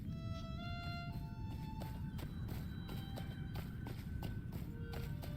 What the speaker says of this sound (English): You're hearing my goat walk in circles when I do this.